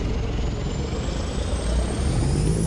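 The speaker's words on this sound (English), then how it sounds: "You can really hear those turbos going in this thing, though, can't you?" A Kenworth T100 truck in American Truck Simulator rolls along with a steady engine drone and a rising turbo whine, loud and continuous without talk.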